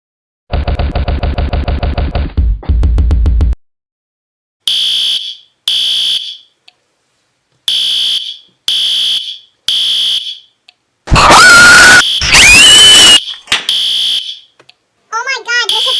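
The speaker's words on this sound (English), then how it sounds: "I'll pull down the fire alarm." A cartoon fire alarm rings in loud rapid electronic bursts, followed by repeated short electronic beeps. A burst of screaming follows, with a child-like voice near the end.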